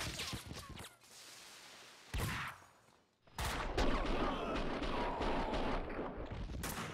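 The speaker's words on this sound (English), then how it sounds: "Someone must have heard the gunfire." Dense bursts of gunfire from the Max Payne 2 video game crackle loudly and almost continuously, broken by a short lull before another heavy barrage of overlapping shots.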